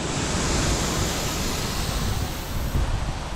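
Sprinklers spray water across a baseball infield being overseeded, a steady, even rushing hiss that continues without a break and with no talking.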